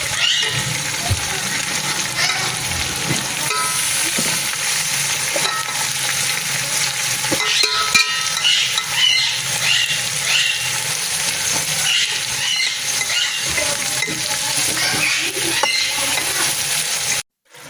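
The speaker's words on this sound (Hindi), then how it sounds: "अब देखें हमारा कीमा जो है सही से भून चुका है" Minced meat with ginger garlic paste frying in a pan, a steady loud sizzle with scraping stirring strokes running throughout, close up and uninterrupted.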